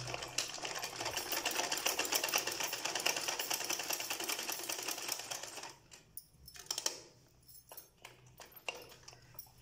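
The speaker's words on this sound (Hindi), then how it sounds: "तो अब इसे हम सिलाई कर लेते हैं मशीन की मदद से।" A sewing machine stitches a cloth mask, running in a fast, steady mechanical rattle for several seconds before slowing into short, halting bursts and stops.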